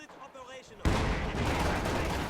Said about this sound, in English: So they're starting to shoot at us.